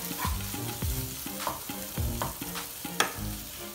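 Tomato masala for a Kerala-style egg roast fries in a pan while a spoon stirs it in repeated scraping strokes over a constant close sizzle, with a sharper clack near the end.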